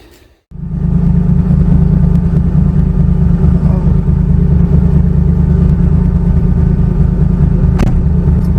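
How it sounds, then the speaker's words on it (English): Boosted Chevy Nova engine with an S480 turbo swap revving for a burnout, starting after a brief pause and then holding a loud, steady, deep rumbling drone close by for the rest of the clip. "We're going to here do a Christmas tree burnout."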